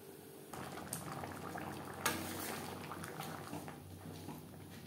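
Monkfish and potato curry bubbles steadily in a pot, a close, continuous boil that swells slightly partway through, with no voices over it.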